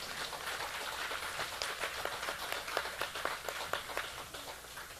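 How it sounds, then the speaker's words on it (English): Audience applause at a Hanuman Jayanti celebration hosted by the Ganesh Utsav Foundation, marking a first event: a steady wash of many hands clapping at moderate distance, with scattered sharper claps standing out, lasting the whole stretch without speech. "you deserve a round of applause"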